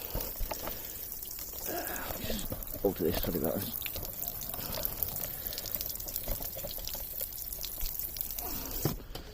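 Water poured from a can around the base of flowering plants mixed with plant food, a steady trickling splash running through most of the stretch, close by and moderate, with a person talking over it.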